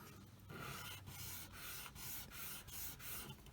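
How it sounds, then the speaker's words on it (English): Rhythmic scraping of a sanding stick against a plastic scale-model part, repeated back-and-forth strokes about twice a second, close and steady with no voices. "So let's run that on the old sandpaper here, or sanding stick."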